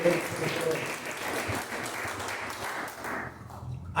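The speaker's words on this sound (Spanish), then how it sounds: "Denle un aplauso al Señor." Church congregation applause during an evangelical service, a busy spread of clapping mixed with voices, fairly steady before thinning out toward the end.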